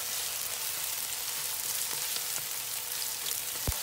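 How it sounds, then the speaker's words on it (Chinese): Garlic and scallions frying in hot oil, a steady close sizzle and crackle that runs without break, with a faint tap near the end. "现在把油热起来以后，就把这个蒜头倒下去，还有这个葱给它倒下去，给它爆一下，炸一下。"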